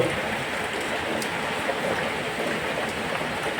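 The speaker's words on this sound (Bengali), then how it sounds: "এই দেখো বন্ধুরা, র্যান্ডাম বৃষ্টি পড়ছে, র্যান্ডাম।" Steady outdoor rain falls in a dense, even hiss with faint scattered drop ticks. The wash stays constant and moderately quiet.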